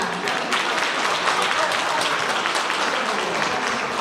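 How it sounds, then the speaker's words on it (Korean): Applause greeting a speaker at a lawmaker's parliamentary report meeting, a dense, continuous wash of hand clapping from a seated crowd, steady in level throughout with possible faint voices blended in. "박수로 맞이해 주시기 바랍니다"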